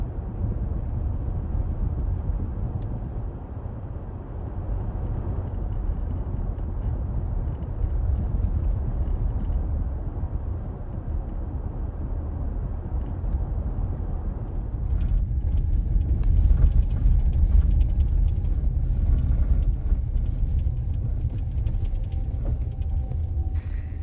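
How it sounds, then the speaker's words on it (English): A car climbs the snowy Klausenpass road in winter, its engine a steady low rumble with road and tyre noise throughout, growing slightly louder and rougher partway through. "And now we'll drive until we can't go any further."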